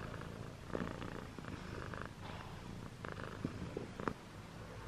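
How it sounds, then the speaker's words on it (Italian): A cat purrs softly and close, a low steady rumbling rhythm with faint breathy pulses, quiet and alone. "sta facendo i pru pru. Le fusa, Gatta Stellina."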